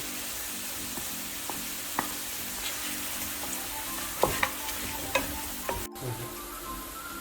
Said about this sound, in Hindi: अब इसके अंदर हमने लहसुन और अदरक का पेस्ट डालेंगे 2 टेबल स्पून।